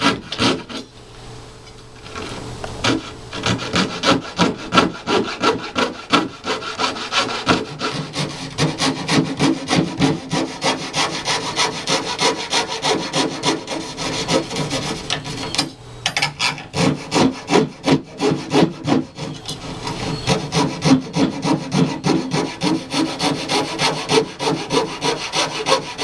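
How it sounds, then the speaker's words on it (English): A coping saw cuts a profile through wood molding in steady, rhythmic rasping strokes, close and continuous, with the pace quickening toward the end. "taking your coping saw, we're going to cut that profile"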